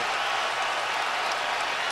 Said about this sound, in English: And the crowd is really into it.